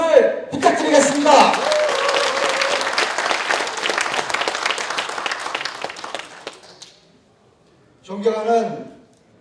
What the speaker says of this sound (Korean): 안민석에게 격려의 박수를 부탁드리겠습니다